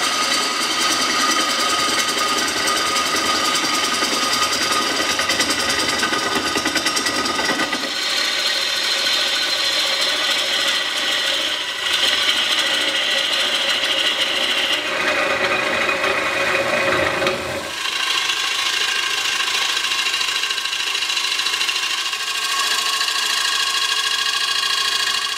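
A lathe turns while a tool hollows out a resin-and-wood rainbow rock bowl, a continuous loud whirring and scraping hum with rough bursts as the cutter bites, steady throughout with no talk.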